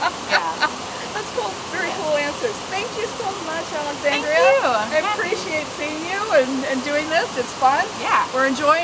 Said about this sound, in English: there's a waterfall behind us.